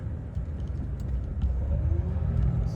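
A car passes on the left: a low engine and road rumble that swells gradually toward the end, with a faint whirring tone midway.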